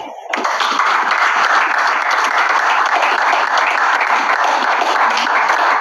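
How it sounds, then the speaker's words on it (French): A church congregation in Yaoundé breaks into loud, sustained applause during a worship service, dense steady clapping from many hands filling the space evenly from start to finish, close and loud. "Applaudissons pour le Seigneur."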